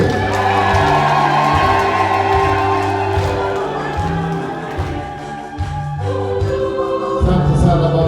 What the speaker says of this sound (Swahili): Piga makofi na vigelegele.